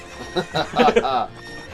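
A horse in the video game Ocarina of Time gives a short, loud whinny with a wavering, falling pitch, heard alone and close.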